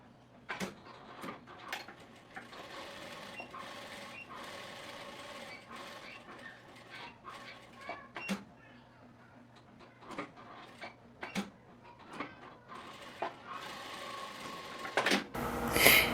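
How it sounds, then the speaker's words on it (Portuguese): A straight-stitch sewing machine sews a trouser pocket opening: quiet mechanical whirring broken by sharp clicks and ratcheting taps, close by, ending in a louder burst of handling noise. "a gente volta na máquina reta para fazer a costura aqui da abertura"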